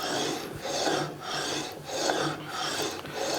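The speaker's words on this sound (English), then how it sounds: "rub that back and forth a few times and pull the gib out" A metal gib on a Monarch lathe cross slide is rubbed back and forth against its dovetail, giving a rhythmic rasping scrape about every half second, close and steady.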